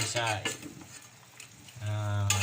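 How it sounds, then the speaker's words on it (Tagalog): Chicken sautéing in a pan for Kapampangan chicken caldereta, with a steady close sizzle and stirring scrapes and clinks of utensil on the pot, fading briefly mid-way before the frying hiss swells again. "igigisa na natin yan guys"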